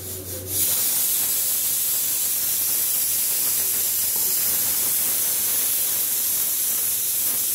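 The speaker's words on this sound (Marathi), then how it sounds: "त्याच्यामध्ये आपण तेल टाकून घेऊया" Oil in a kadai on the stove, set up for a simple vegetable pulao, gives off a loud, steady hiss that starts abruptly and stays even throughout, with no talking.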